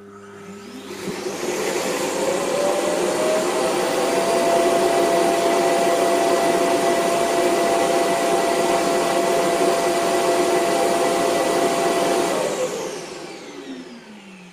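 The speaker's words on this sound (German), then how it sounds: "dockt dann mit der Rückseite an und wird dann abgesaugt" A Viomi S9 robot vacuum's docking station sucks the dustbin empty with a loud, steady roaring whoosh that ramps up, holds for about eleven seconds, then winds down, with no talking.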